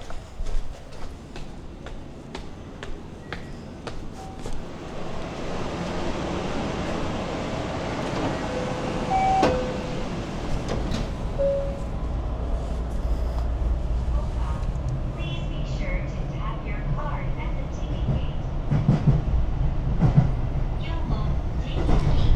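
A local train rumbles and clatters as it pulls along a platform at Niimi station in Japan, steady rolling noise with squeaks and clanks building over time, some background voices.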